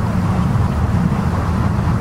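A car passes along the road near the Sanetsch pass tunnel, a steady loud low rumble of engine and tyre noise that holds throughout without talk.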